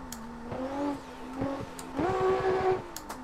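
A car driven with hand controls and no pedals, clutch-kick drifting, its engine revving up and dropping in repeated surges with rising and falling pitch, close and moderately loud.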